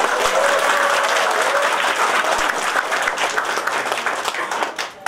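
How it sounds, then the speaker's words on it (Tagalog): A large audience at a seminar event breaks into loud, dense applause, steady and sustained before trailing off slightly at the end, with no talk over it. "Palampakan mo natin sila."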